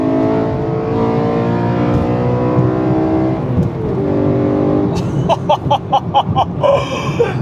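BMW E92 M3 engine under way, a steady loud drone with rising harmonics, then quick rhythmic blips as it revs on a downshift near the end, no talk.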